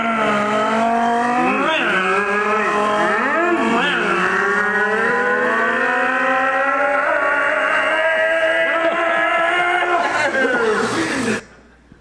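Several people vocally mimic revving race car engines to drive slot cars, a loud continuous chorus of overlapping pitch-bending vroom sounds held for about eleven seconds before cutting off.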